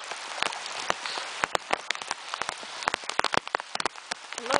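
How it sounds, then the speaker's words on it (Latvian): Steady rain pours down in Brisbane, with a dense hiss of water and many sharp drops pattering close by on a hard surface. "īsts lietutiņš, lietus gāzīte."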